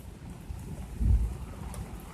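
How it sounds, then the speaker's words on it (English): Rain falling outdoors in Halifax, a soft steady patter with low wind rumble and a brief louder gust midway. "And now the rain's come down a bit"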